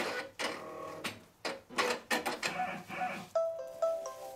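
A Brother PR1055 multi-needle embroidery machine stitches in rapid bursts, its mechanical chatter pulsing in short loud runs, then winding down to a few quieter tonal clicks as it stops.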